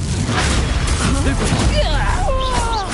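A Confringo blast spell in the wizarding video game Hogwarts Legacy, a deep booming burst with crackling debris and sweeping whooshes mixed with game effects and voices, loud and dense for a few seconds.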